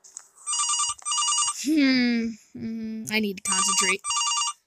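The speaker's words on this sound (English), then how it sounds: "And then the phone starts ringing." Old-style telephone bell in a horror video game rings in repeated bursts, loud and near, with someone talking over and between the rings.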